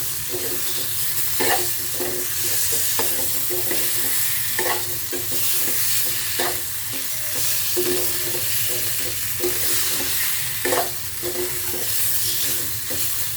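Fried raw banana pieces being stirred with spices in a hot pan for a hilsa curry, loud continuous sizzling with a regular rhythm of spatula scrapes and knocks, no voices.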